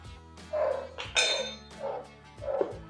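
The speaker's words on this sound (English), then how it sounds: "I don't know if you can hear my dogs barking." Several dogs playing outside bark in short bursts, four or five sharp yaps spread over a few seconds, muffled by the distance from indoors.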